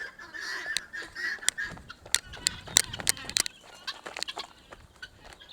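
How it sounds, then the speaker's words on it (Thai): Chickens clucking and squawking loudly near a rooftop tent campsite, with rapid overlapping calls and sharp cries in quick bursts, close by and without speech. "ได้ยินเสียงไก่พามาดูไก่"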